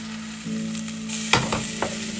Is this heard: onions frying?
yes